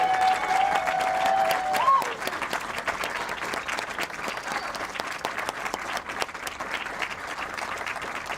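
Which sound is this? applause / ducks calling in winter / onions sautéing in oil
applause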